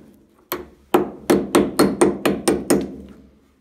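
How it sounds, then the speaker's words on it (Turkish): A hammer taps a door lock into place in a wooden door, eight sharp knocks with short gaps between them, close and clear, with no voices. "Çok hafif içeriye doğru vurun."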